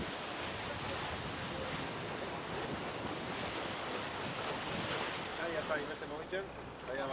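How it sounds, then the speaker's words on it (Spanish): Rough sea surges against a ship in the port of Bilbao, a steady windy wash of waves with buffeting gusts that grows a little more choppy near the end. "Hace buen tiempo, pero el mar está algo movido."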